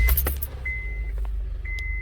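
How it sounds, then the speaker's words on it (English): A car sits in a garage during a rear brake job. Keys jangle and clack against the ignition, then two short electronic chimes sound, with a low engine hum underneath. "So I'm going to start the vehicle up."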